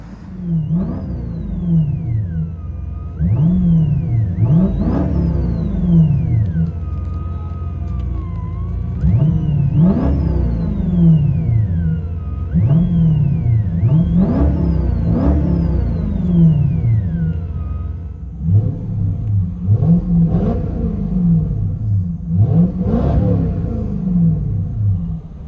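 A 1997 Lexus SC400 with true dual straight-pipe exhaust and factory cats, revved repeatedly, each sharp climb and fall of the engine loud and close, in a steady run of pulls.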